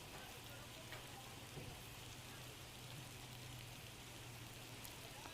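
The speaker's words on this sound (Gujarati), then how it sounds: "લાખણીમાં ધોધમાર વરસાદ પડ્યો છે" Heavy monsoon rain pours steadily over Lakhani in Banaskantha, north Gujarat, as an even, unbroken hiss with a faint low hum underneath. Fairly quiet and distant, with no distinct drops or thunder.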